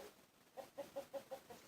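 Faint rhythmic clucking calls from a distant rooster or chicken, a quick run of five or six notes in a quiet room.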